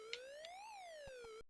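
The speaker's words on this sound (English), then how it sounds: "the sound effects sound like the Coleco handheld Pac-Man, just playing a siren in the background" A rising-then-falling electronic siren tone from a homebrew Pac-Man video game in portrait mode, resembling the Coleco handheld Pac-Man, wails steadily for over a second with a few soft clicks, then cuts off abruptly.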